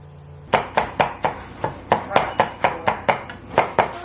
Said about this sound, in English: pound, peel, and finely chop all the garlic